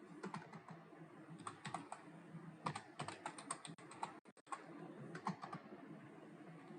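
Fast, irregular keyboard clatter as a terminal command is typed on a computer, bursts of keystrokes with brief pauses, close and fairly quiet with no voice over it.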